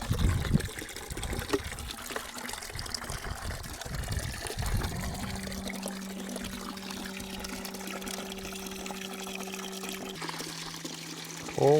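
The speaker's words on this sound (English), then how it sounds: "So we're filling up a bucket." Water from a solar-powered well pours steadily into a bucket, a continuous close trickle and gush that rises in pitch as the bucket fills, with brief voices near the start.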